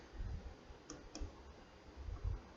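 Mouse clicks on the validate option in HFSS simulation software, two quick sharp clicks close together near the middle, faint over low background rumble with no talking.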